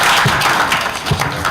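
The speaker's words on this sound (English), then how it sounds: "Can we have one last round of applause?" Applause from an audience at an Everett Community Streets Initiative meeting: a dense, steady patter of many hands clapping, fairly close and loud, lasting throughout.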